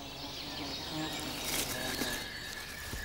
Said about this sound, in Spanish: el oso ha de superar un ejército de abejas obreras